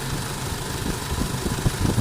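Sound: Isuzu D-Max engine idling

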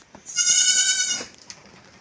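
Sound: goats bleating in a shed

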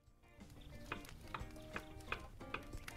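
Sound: fries frying in oil, from the video game Kebab Chefs

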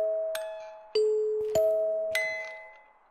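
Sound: cursed music box playing in Phasmophobia video game

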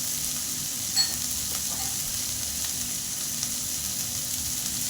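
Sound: onion frying quickly in a pan

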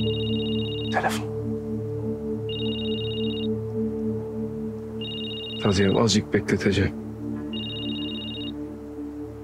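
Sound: telephone ringing

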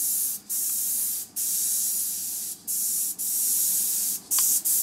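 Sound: spray gun spraying paint

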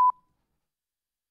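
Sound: beep tone

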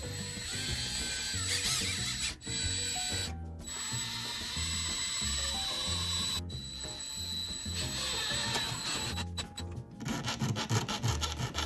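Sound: drilling pilot holes for small wood screws

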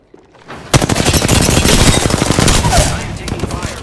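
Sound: gunfire in video game Apex Legends

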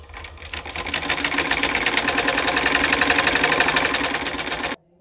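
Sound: sewing machine stitching a suit

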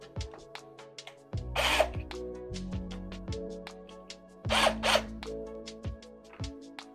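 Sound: drilling a small guide hole

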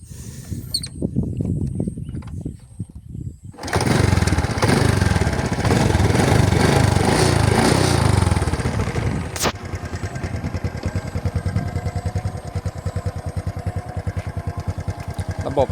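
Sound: Honda Wave 125X motorcycle engine running

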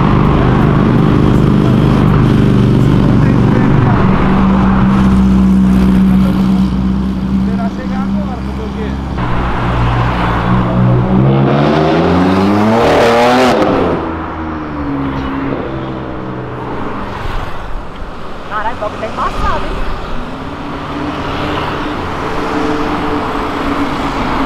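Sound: car engine roaring while accelerating past

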